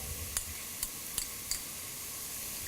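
Onion, garlic, ginger and green chillies sauté in a pan for a jackfruit-seed cutlet, giving a faint steady sizzle broken by four sharp stirring clicks and taps of a spoon against the pan.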